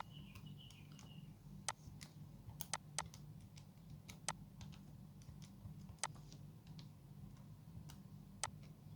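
Calculator buttons are pressed in a handful of light, sharp clicks spaced irregularly over a faint low hum, quiet and close.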